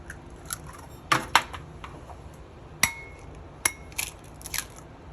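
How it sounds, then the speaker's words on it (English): Eggs are cracked against a hard edge into a separate bowl, giving a few sharp, close taps and shell crunches spaced irregularly, with quiet pauses between them. "I always like to crack my eggs into a separate bowl"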